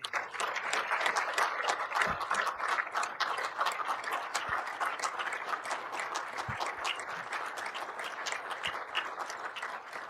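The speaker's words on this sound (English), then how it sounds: "members of council again, big round of applause" Sustained applause from a regional council meeting audience honoring council members, a dense, steady patter of many hands clapping for about ten seconds with no talking over it.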